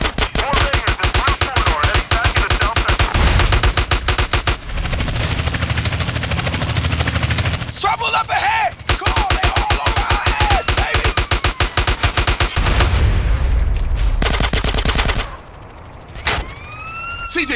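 Heavy gunfire during a shootout in Grand Theft Auto: San Andreas, long dense bursts of rapid automatic shots with brief gaps, loud and close, with a siren-like wail and fainter sounds near the end.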